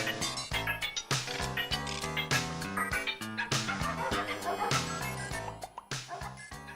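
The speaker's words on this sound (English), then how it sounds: "You'd hear dogs barking" Dogs bark in a played-back stereo recording, repeated yips and barks layered with busy tonal sounds at a fairly loud, steady level, no talking over it.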